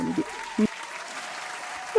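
A cartoon applause sound effect plays as a brief burst of clapping, with animated voices briefly mixed in.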